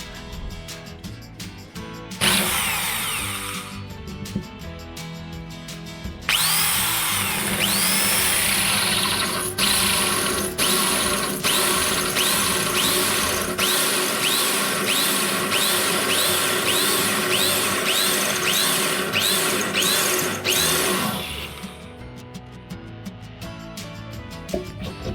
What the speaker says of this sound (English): let's drill the hole